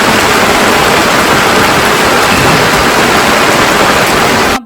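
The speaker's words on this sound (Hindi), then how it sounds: "वहाँ बारिश झमाझम शुरू हो गई थी" Heavy rain pours down in a village as a loud, dense, steady hiss that fills the whole stretch without any break and cuts off abruptly at the end.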